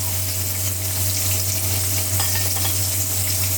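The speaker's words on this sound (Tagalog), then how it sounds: "ganyan po yung pagluto ko ng isda na maliliit sa Hong Kong" Small fish fry in hot oil with egg, a steady dense sizzle holding even and loud from start to finish, with a faint steady hum underneath and no voices.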